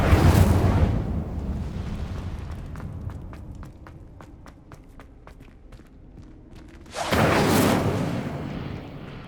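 Incendio fire spell cast in Hogwarts Legacy: a loud whooshing burst of flame, then quieter footsteps, then a second roaring burst of fire.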